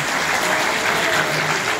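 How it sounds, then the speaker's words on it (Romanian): An audience at an anti-drug conference in Targu Neamt applauds, dense even clapping from many hands filling the whole moment at close range. "Să-l aplaudăm pe Edi"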